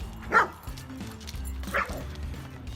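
A German Shepherd barks twice, a second or so apart, over faint background noise, with no one talking.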